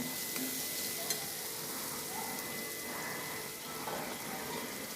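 Chopped tomato sautéing in oily masala for a Marathi cauliflower curry, a steady close sizzle and hiss in the pan with faint stirring scrapes throughout.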